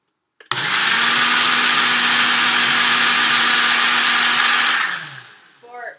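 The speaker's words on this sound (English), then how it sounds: "And so I'm just gonna blend it in my blender." A countertop blender whirs collagen bulletproof coffee for about four and a half seconds. The motor runs loud and steady after a sharp start, then winds down and stops.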